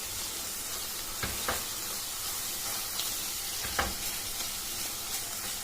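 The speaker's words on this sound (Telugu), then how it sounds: "ఇదంతా వంకాయలు కలిపి పెట్టుకున్న తర్వాత ఇప్పుడు మసాలాను కూడా ఆయిల్లోనే కొద్దిగా ఉడికించుకోవాలి." Masala frying in oil together with brinjal pieces makes a steady loud sizzle, with a few soft stirring scrapes and clicks of a spoon against the pan along the way.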